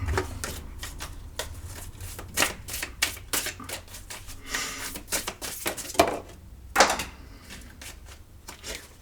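Tarot cards being reshuffled by hand at a table, a rapid run of crisp riffling snaps and slaps in irregular bursts, close and fairly quiet, with no talking.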